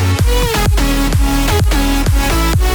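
Future house track with a full master effects chain, including limiters, plays loud and dense, with a pumping kick on each beat, deep bass and bright synth layers throughout, no voices.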